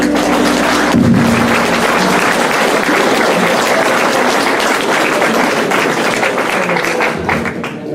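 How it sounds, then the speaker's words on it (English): A crowd at a tribute concert claps steadily and loudly, a dense sustained applause that tapers slightly near the end, with some talk underneath. "Yeah, you're clapping now."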